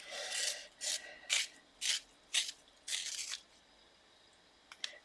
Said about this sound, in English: Got my sharpener all bunged up now.